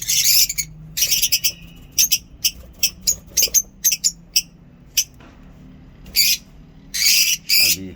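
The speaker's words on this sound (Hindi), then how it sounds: "आवाज़ें भी आप सुन सकते हैं, लवली साउंड्स, ऑसम बर्ड्स।" Many birds in a small zoo aviary, including lovebirds, give loud, sharp, high-pitched chirps and squawks in quick bursts and irregular clusters. Calls overlap at close range, with a faint low background hum between them.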